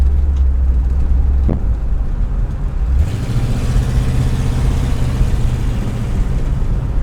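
Ford Falcon wagon engine rumbling loudly through a corner, a steady low drone that deepens and grows heavier about halfway through, with no talking.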